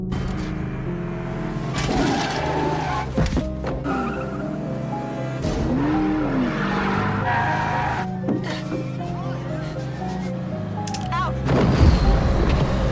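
Car chase in an action film as a man drives a commandeered car after a tanker truck, with tire squeals, engine roar and booming impacts layered over a dense, busy soundtrack.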